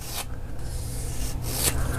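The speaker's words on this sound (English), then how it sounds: "what you do is you come on in with your sanding block, and I just want to go ahead and clean this radius up" Sanding block rubbed by hand along a rounded radius on a quarter-scale balsa model aircraft, close raspy strokes in a few swipes with brief pauses between passes.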